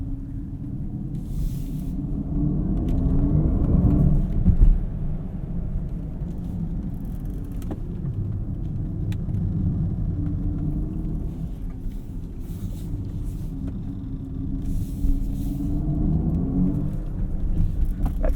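A 2023 Mercedes-AMG EQS electric car with four-wheel steering is driven hard through canyon corners, giving a steady low road and motor rumble with tyre noise that swells slightly through the bends, close and continuous with no talk.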